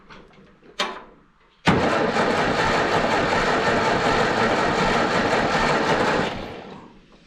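The engine of an old Ferguson 'petit gris' tractor turns over briefly, then cranks steadily for about four and a half seconds without catching before winding down. The sound is loud and close.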